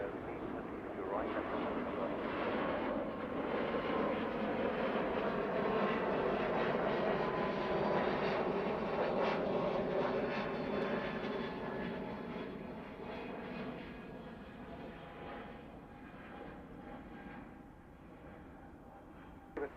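A British Airways Airbus A380 at Heathrow Airport gives a broad, steady roar of jet engines that holds strong and then slowly fades, with a constant rumbling wash throughout and no talk.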